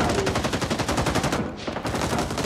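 Rapid bursts of automatic gunfire in the Vietnam-war shooter Rising Storm 2: Vietnam, loud and close, with sharp repeated shots in a steady rhythm and a brief pause before the firing resumes.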